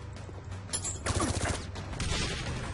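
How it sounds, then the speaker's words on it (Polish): Rapid bursts of gunfire in the video game Code of Honor 3 crackle in quick succession, a dense volley of shots at moderate loudness with no talking. "Słyszę jakieś strzały."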